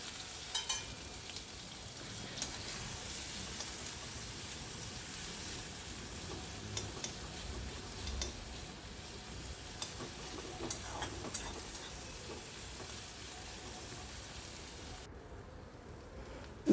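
Finely chopped onions fry in a pan with the fried amudi fish, giving a quiet, steady sizzle with scattered small ticks and clicks throughout.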